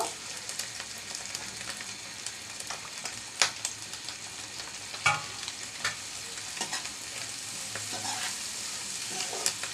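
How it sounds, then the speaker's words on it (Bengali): Egg and bitter gourd fry being stirred in a pan, a soft continuous sizzle with occasional spatula clicks and scrapes, fairly quiet and without talking. "নেড়ে চেড়ে নামিয়ে নিচ্ছি"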